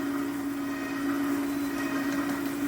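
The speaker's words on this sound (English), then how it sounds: "We're going to get this all mixed together, make the oil and sugar all creamed in there good." An electric mixer whirs with a steady, even motor drone as it creams oil and sugar together for a cake batter, close and unbroken throughout.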